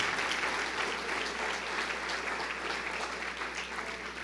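Worshippers at an online church service applaud the name of Jesus, a soft, distant, even patter of many hands clapping that holds steady throughout.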